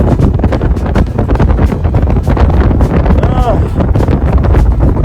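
Strong winds of around 40 miles per hour blow across sand dunes in freezing cold. They batter the microphone in a loud, continuous roaring buffet for the whole stretch.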